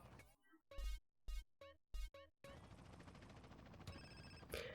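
A phone rings in GTA San Andreas during a six-star wanted level playthrough: a run of sharp, evenly spaced ring pulses, then dense, noisy game action.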